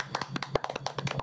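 A handful of hand claps ring out in a quick, uneven burst, close and fairly quiet, with no talk over them.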